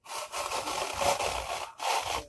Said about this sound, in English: the carrots are a little harder to grind